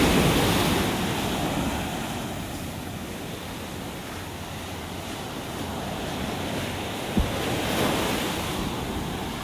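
Ocean surf pounds the beach at North Naples, Florida, a steady broad wash of breaking waves with wind buffeting the microphone and a brief thump near the end, no voices.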